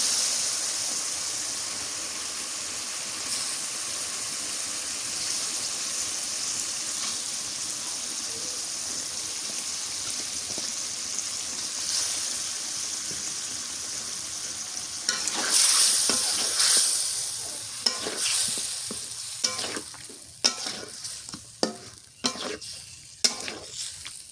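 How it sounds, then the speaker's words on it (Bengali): Pieces of boal fish dropped into spice masala frying in a pan set off a steady loud sizzle and hiss, followed by stirring scrapes and bursts of spattering as the cooking goes on. "মশলা কষানো হয়ে গেছে এবার মাছ দিয়ে দিই"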